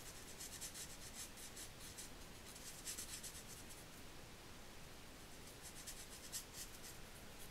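A marker rubs quickly back and forth on paper, coloring butterfly wing spots pink, a faint, rapid scratchy stroking repeated throughout over a quiet hiss, with no voices.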